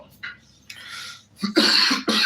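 Several harsh coughs come in quick succession, close and fairly loud, following a couple of softer throat sounds.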